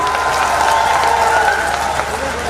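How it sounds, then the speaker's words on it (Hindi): A large crowd at a Bharatiya Janata Party political rally breaks into loud, sustained applause, a dense, continuous clatter of clapping hands filling the whole moment. "इसके लिए भी एक जोरदार ताली होनी चाहिए"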